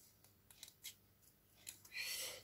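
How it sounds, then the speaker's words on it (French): Small scissors snip paper in several quick, crisp close-up cuts, followed by a longer rustling slice of paper while crafting a mini album, all faint and quiet with no speech. "Donc ces ciseaux, je les adore."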